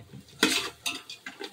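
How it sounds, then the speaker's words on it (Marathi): Village-style marinated country chicken stirred and frying in hot oil in a pan, with a few sharp scrapes and clinks of a spoon against the metal over a soft sizzle, close and without talk. "तेलात मस्त एकदम फ्राय"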